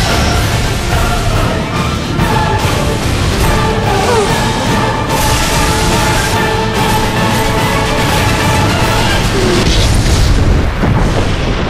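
Repeated explosions from the upgraded Grinder weapon in the video game Red Faction: Guerrilla, its spinning blades bursting in loud booms that stay steady and dense over a roaring game soundscape throughout.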